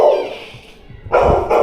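Dogs bark loudly nearby in a house in the Philippines, a burst of barking at the start, a brief lull, then more sharp barks toward the end.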